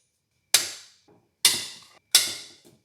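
Three sharp, loud metallic snaps from vice grips clamping down and crushing a part during an SR20DET engine swap cleanup, spaced about a second apart, each decaying quickly into quiet.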